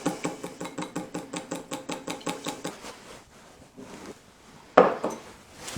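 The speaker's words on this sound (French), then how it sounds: "Et mélangez-les." Keto crêpe ingredients, vanilla extract among them, whisked in a bowl, giving a quick steady run of close clinking and scraping strokes, then a pause and a few scattered knocks.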